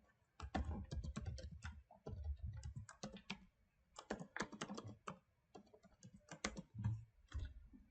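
Someone types a password on a computer keyboard while installing MySQL on Windows. Quick bursts of soft key clicks come in irregular runs with short pauses, quiet and close, with no talking.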